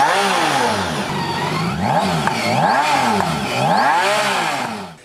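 A BMW Grand America motorcycle engine revs close and loud, rising and falling in several repeated throttle blips over a steady idle.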